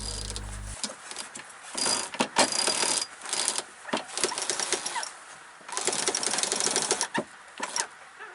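Rapid mechanical clicking in bursts of several seconds, with short pauses between, as a sailboat's winch ratchet is cranked repeatedly nearby to hoist the sails.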